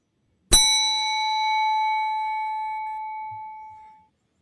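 A single bell ding strikes sharply and then rings out cleanly, its pure tone slowly fading over several seconds in otherwise silent surroundings.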